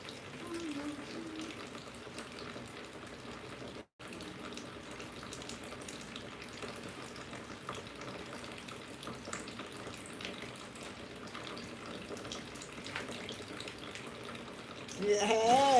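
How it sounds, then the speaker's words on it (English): A kitchen tap runs steadily as water is drawn, a continuous rushing flow with a brief break near the start and a voice rising over it at the end. "So I'm going to go fetch some water."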